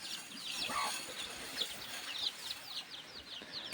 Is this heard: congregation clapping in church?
no